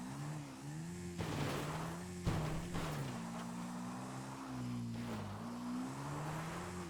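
A car driven in GTA 5 Online gives a steady engine drone that rises and falls with speed changes, with a few brief bumps and rattles along the way, close and continuous with no voices.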